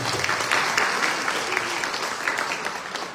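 An audience at an academic-year inauguration ceremony in Chilca applauds steadily, a dense wash of many hands clapping close and fairly loud for several seconds.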